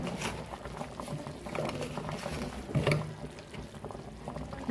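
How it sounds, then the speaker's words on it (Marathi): Matki (moth bean) curry bubbling at a steady boil in a cooking pot, with an irregular close patter of bursting bubbles and no talk. "आता आपली पूर्ण भाजी उकळून झालेली आहे."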